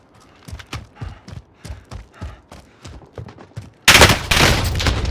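Video game gunfire: a run of sharp, separate shots at an uneven rhythm, then a sudden loud, dense burst of firing that carries on to the end.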